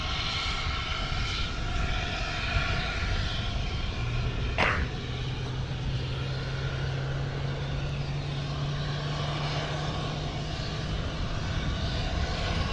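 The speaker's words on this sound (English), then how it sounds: "I've got some UPS action for you and an MD-11 pushback" A UPS MD-11 freighter at DFW airport during pushback, its jet engines producing a steady, loud roar and whine that holds evenly, with one brief sharp sweep partway through.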